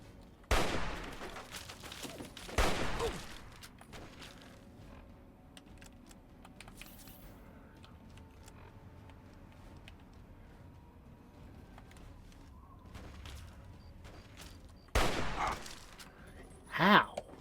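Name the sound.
sniper rifle gunfire in the video game Fallout 3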